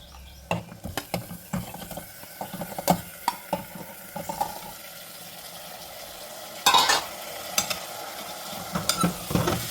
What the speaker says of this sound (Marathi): आता ह्यामध्ये घालूया हे मटन